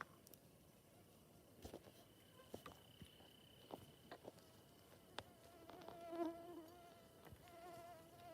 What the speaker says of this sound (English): Mosquitoes.